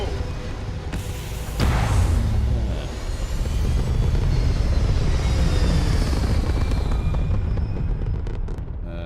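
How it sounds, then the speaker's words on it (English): A spaceship lifts off in Starfield, its engines swelling from a low rumble into a loud, sustained roar with a sharp surge early on and a steady thrust that carries on to the end. "let's take off, eh? Ready for takeoff in 3, 2, 1,"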